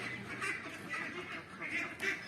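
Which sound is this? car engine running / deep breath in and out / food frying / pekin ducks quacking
pekin ducks quacking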